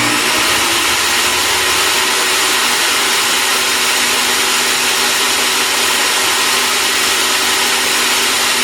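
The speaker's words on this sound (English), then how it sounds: "I'm going to run this board through the saw to get a good edge on it." A saw rips the edge of a black walnut board for a gun case, giving a steady, loud whirring drone that holds throughout with no pauses.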